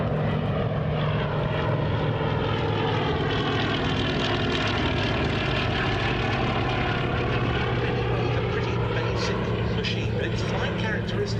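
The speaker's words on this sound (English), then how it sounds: "This torpedo spotter reconnaissance biplane with a 750 horsepower Bristol Pegasus radial engine." A Fairey Swordfish torpedo spotter reconnaissance biplane with a 750 horsepower Bristol Pegasus radial engine drones steadily and loudly throughout, a continuous propeller roar at an RAF Duxford airshow with no clear talk.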